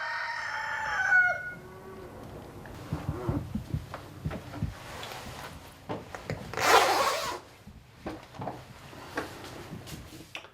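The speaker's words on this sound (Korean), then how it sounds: "새벽 첫 닭의 울음소리로 시작되는 병우 씨의 하루." At dawn on a farm, a rooster crows once near the start, a clear drawn-out call, followed by scattered rubbing and scraping noises and quiet rustling.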